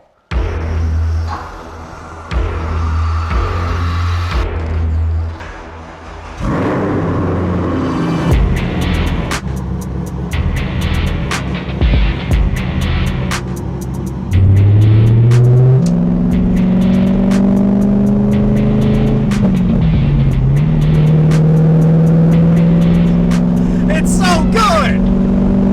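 A rebuilt car engine accelerates on its first drive, revving up through rising pitches and shifting, loud and close, with people talking over it.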